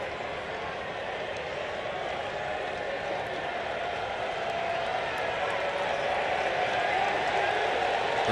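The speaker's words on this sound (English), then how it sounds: "Crowd going to rev it up again" A baseball stadium crowd cheers and applauds in a continuous, steady roar, while a commentator talks over the noise.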